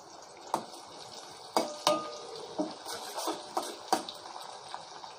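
A pan frying ingredients for lemon rice on a low flame: a soft background sizzle broken by several sharp scrapes and clinks as a spoon stirs against the pan, close up and without talk.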